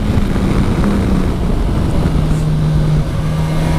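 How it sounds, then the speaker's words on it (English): A Kawasaki Versys 1000 SE GT four-cylinder motorcycle engine drones steadily at a constant pitch, loud and close, with a continuous low hum throughout. "It's a 4-cylinder engine with all the good and bad of it."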